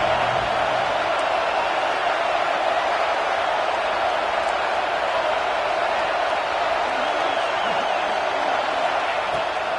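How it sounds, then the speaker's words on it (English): A stadium crowd roars steadily on third down in an NCAA college football video game, a dense, loud wall of noise that holds without a break. "Decibels rising as the crowd gets behind this defense on third down."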